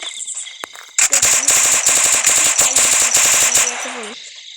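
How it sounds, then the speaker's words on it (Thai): Rapid automatic gunfire in a shooting video game, loud bursts of closely spaced shots with a sharp mechanical rattle, starting after a brief pause and ending in a short tail, with a high tone running underneath. "กูเข้ามาหลบแล้วแต่มันยังยิงได้"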